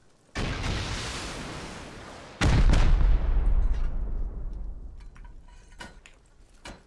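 Loud gunfire in the video game Rust, with two heavy booming blasts, each followed by a long rumbling decay, then a few fainter distant shots trailing off.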